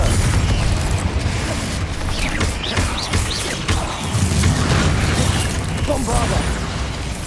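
Spell blasts and bursts of combat in Hogwarts Legacy, repeated booming impacts and crackling explosions over a dense rumbling game mix, with spoken incantations cutting in between hits.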